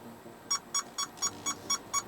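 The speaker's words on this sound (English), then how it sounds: "there's so much beeping" A 2018 Hyundai Elantra Sport parking sensor beeps at a quick, even pace, eight sharp pings in a row, clear and moderately close with no talking.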